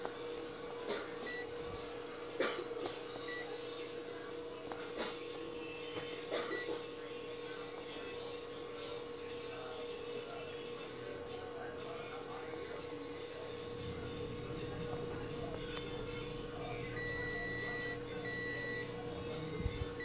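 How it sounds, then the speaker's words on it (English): A multimeter in continuity mode beeps while probing a shorted AVDD line on an LCD panel, a steady faint electronic tone running under a low background hum and small handling clicks. "Multimeter sets to continuity mode. Beep means a short circuit line."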